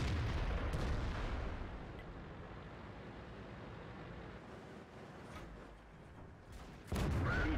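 Artillery shells strike an IS-7 heavy tank in World of Tanks, a heavy booming blast at the start fading into a low rumble, then another sharp impact near the end.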